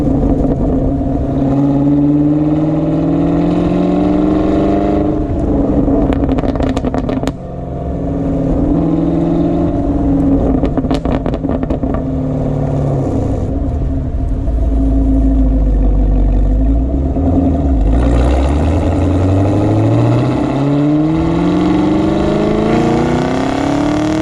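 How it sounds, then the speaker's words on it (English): An old-school pushrod V8 rumbles loud and close, revving up and settling back several times with rising and falling deep tones and a brief dip before a final climb, no voices over it. "having a car like this that has that old school pushrod V8 sound"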